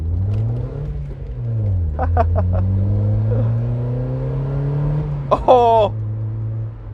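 A Chevrolet Cobalt fitted with an aftermarket exhaust drones and revs close by while driving, its engine note rising and falling in steady pulls, with a brief sharper burst near the end and a voice briefly over it.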